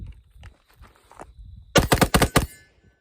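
An AR-15 rifle with a newly painted finish fires the rest of a magazine in a quick burst of about six loud, close shots after a stretch of quiet handling sounds.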